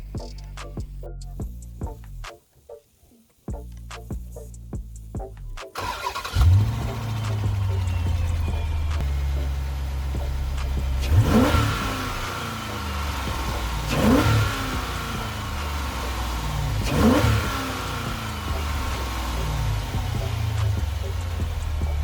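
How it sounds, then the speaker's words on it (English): A 2007 Chrysler 300C V8 engine, with its air intake resonator removed, idles with a low rumble, then revs sharply three times in a row, each rev rising and falling back to a steady idle. "let me get a couple of engine revs for you so we can have some comparison"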